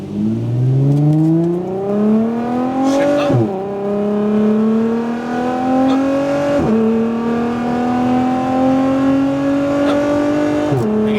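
Lotus Emira accelerating smoothly as if merging onto a highway, engine note rising steadily through three gears with brief dips at each upshift, loud and close throughout.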